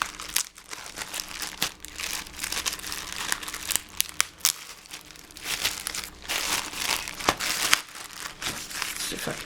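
A plastic bag of stationery arriving as happy mail is torn into, with close crinkling and crumpling bursts that rise and fall for several seconds, occasional sharp rustles standing out above a soft room background.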